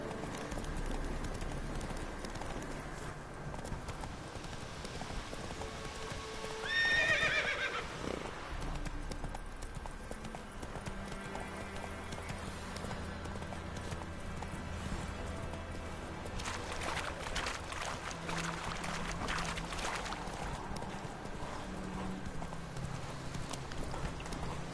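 In The Witcher 3 video game a horse gallops with a steady clip-clop of hooves and lets out a neigh partway through, amid faint ambient game sounds.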